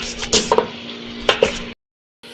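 Meat being stirred in a cooking pot, with scraping strokes of a utensil over a steady sizzle, two pairs of louder clanks against the pot, then a sudden drop to silence.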